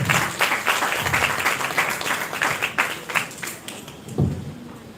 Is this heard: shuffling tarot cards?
no